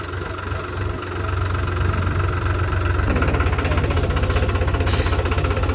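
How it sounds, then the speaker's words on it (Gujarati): A tractor engine runs in a muddy field, loud and close. A rough, uneven rumble settles into a steady, rapid chugging pulse partway through, with no speech. "તો ગારામાં ટ્રેક્ટર હાલે છે."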